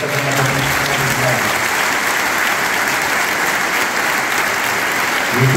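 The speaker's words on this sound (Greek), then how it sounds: "Ένα χειροκρότημα για αυτά τα καταπληκτικά." A concert audience applauds orchestra musicians of a philharmonic for popular music, steady loud clapping that fills the whole stretch, with a faint voice or tone at the start and end.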